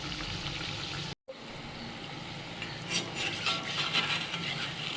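Kara bonda fritters cooking in hot oil, a steady dense sizzle and bubbling that briefly cuts out near the start, then resumes with faint clinks of a utensil against the pan toward the end.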